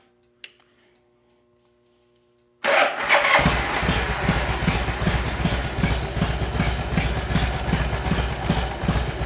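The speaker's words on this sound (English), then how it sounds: "We're going to go ahead and start the bike" A 1988 Harley-Davidson Evo Softail Springer motorcycle cranks and fires after a near-silent pause, then settles into a loud, close, lumpy idle with a steady rhythmic thump. No one speaks over it.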